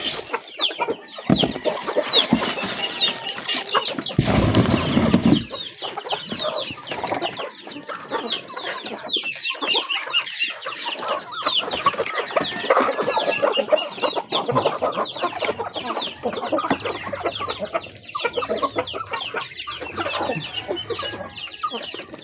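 A flock of chickens kept with ducks, clucking busily at feeding time: dense, overlapping clucks and squawks close by, continuous and loud, with occasional scuffling.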